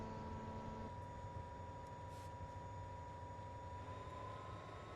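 Steady low diesel locomotive engine drone with a faint tonal hum in the Train Simulator 2022 video game, continuous and moderately quiet with no speech.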